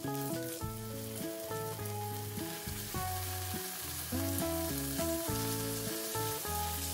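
Salmon fries in butter with garlic slices in a hot pan, a constant crackling sizzle beneath loud background music with clear melodic notes that plays the whole time.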